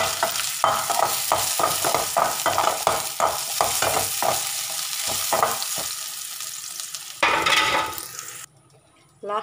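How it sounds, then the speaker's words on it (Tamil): Ginger frying in oil for a curry leaf chutney, with a busy sizzle and frequent stirring scrapes, then a burst of running water near the end before the sound cuts out. "அடுத்து வந்து அந்த இஞ்சியை பொரிச்சுக்கலாம்."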